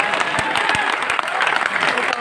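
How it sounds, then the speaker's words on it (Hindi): Audience at a Hindi poetry recital in Ayodhya breaks into dense, sustained clapping, loud and continuous throughout. "आप लोगों को एक बार मुंह दिखाई की तालियां भी बजानी चाहिए"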